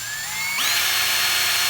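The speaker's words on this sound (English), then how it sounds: "So I just needed to drill it out." A power drill whines loudly and close while drilling out a screw hole in a 2000 Ford Ranger light switch repair, its pitch rising sharply as it spins up, then holding a steady high-pitched buzz.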